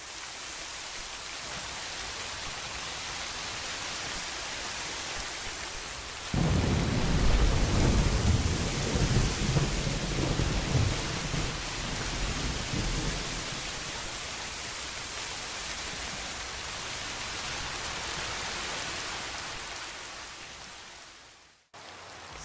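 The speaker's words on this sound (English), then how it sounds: "It just replaces the sound of the rain and thunder of the game." Gentle rain from a Minecraft weather sounds resource pack, steady hiss throughout, joined partway by a deep rolling rumble of thunder that slowly fades back into the rain, no voices.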